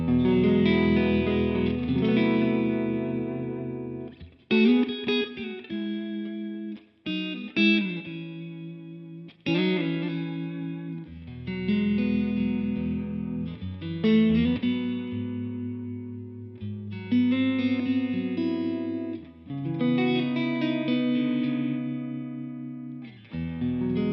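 An electric guitar played through a Line 6 Helix Stadium XL amp modeler with a tremolo effect rings out in sustained chords and notes, volume pulsing rhythmically, with clean pauses between phrases and no talking.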